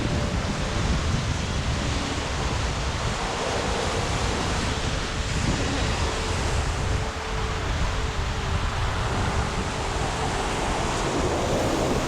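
Strong, steady wind roars across the microphone with the constant wash of surf underneath, loud and unbroken throughout, at Pigeon Point Beach, Tobago.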